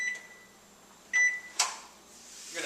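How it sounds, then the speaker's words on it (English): Microwave oven being tested during a home inspection gives a steady low hum, with a brief beep-like tone and a door or latch clunk partway through, close by and without talk. "You're going to test the microwave,"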